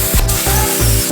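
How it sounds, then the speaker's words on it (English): Air compressor inflating a tire to about 46.5 psi, a loud close hissing rush pulsing in short, regular bursts with a mechanical hum underneath. "That's why I'm gonna use my compressor."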